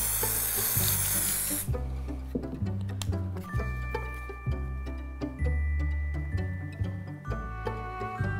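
A brief loud hiss of aerosol adhesive spray over static model grass on a model baseboard opens, then stops, followed by quiet clicking and soft tapping over a background of steady music.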